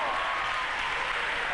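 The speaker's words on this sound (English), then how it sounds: "Clap your hands like you believe it." A church congregation clapping their hands during an evangelist's sermon, a dense, steady wash of applause filling the room for a brief moment.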